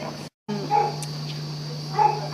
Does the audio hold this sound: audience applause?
no